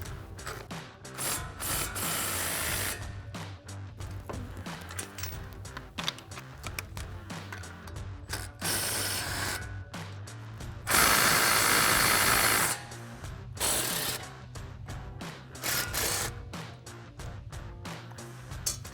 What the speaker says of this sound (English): So we're gonna grab our impact and 15mm socket,